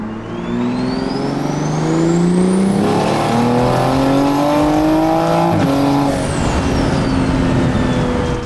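A big-turbo B58 engine in a Toyota A90 Supra accelerates hard in third gear from low revs toward redline, loud and close, its rising harmonic tones sweeping upward with a brief dip near a shift point.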